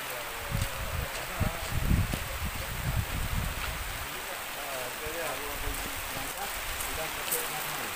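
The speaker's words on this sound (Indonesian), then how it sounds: "Ini kita disambut dengan hujan" Rain falls steadily at Darussalam, an even wash of hiss with pattering drops and some nearby rustling, fairly loud throughout, with brief low murmurs of activity near the start.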